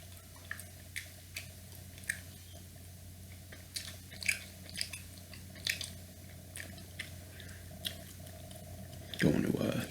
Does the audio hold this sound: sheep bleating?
no